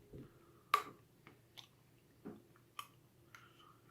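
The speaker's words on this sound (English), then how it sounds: "The Walmart one is very crunchy and powdery again" A yellow Walmart Crayola crayon being bitten and chewed, a handful of faint, sharp crunches spaced irregularly in near silence.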